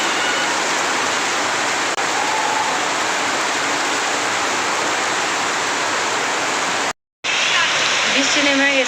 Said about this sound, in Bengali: ওয়াও বৃষ্টি নেমে গেছে জোরে জোরে